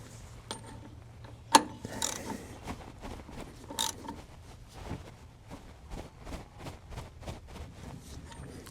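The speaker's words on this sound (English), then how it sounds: "I'll just tighten that up a little bit more" A bolt is tightened on a Detroit Diesel V12 engine under restoration, giving a close, steady series of ratcheting clicks with a few louder metallic knocks, fairly quiet.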